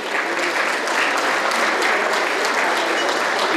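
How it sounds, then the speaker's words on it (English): A dinner audience breaks into sustained, dense applause for a congressman, a steady wash of many hands clapping with no gaps, fairly close and loud throughout. "How about a round of applause for Congressman Jerry McNerney?"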